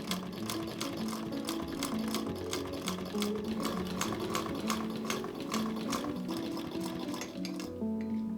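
A sewing machine stitches an English paper pieced quilt, running continuously with a rapid, even mechanical clatter and motor hum, close and steady before slowing and stopping near the end.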